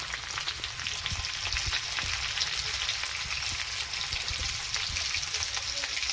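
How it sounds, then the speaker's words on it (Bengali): Potatoes and cauliflower fry in a pan with a loud, steady, close sizzle and crackle that runs unbroken throughout, with no voices. "আলু ফুলকপি ভালো করে ভাজা হয়ে গেছে"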